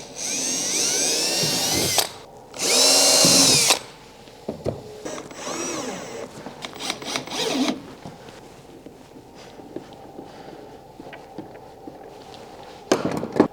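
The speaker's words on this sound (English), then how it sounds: "it's good to use a 1/8 inch drill bit" A power drill with a 1/8 inch bit drills holes in a bow install job, two loud high whirring bursts close up, followed by quieter handling clatter and a brief final whir.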